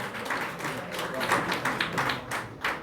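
An audience at a press conference for a Senegalese singer at the Grand Théâtre applauds, a dense run of moderately loud clapping lasting a few seconds.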